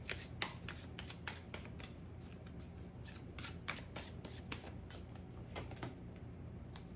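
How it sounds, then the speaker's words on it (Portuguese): A deck of Tarô das Musas tarot cards being shuffled by hand, soft and close, with quick papery riffles and slaps repeating at an uneven pace over a quiet room hiss. "Acho que eu vou pegar esse próprio baralho aqui, esse próprio tarô das musas"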